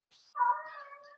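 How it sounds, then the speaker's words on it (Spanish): A single short cat meow, clear and fairly quiet, rising into a drawn-out tonal cry against silence. "Hasta la gata de Sofía está hablando."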